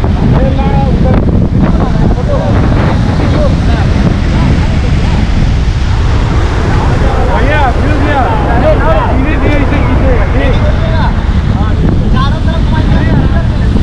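Sea waves at the old Dhanushkodi harbour hit and splash up continuously under heavy wind buffeting on the microphone, with people talking close by.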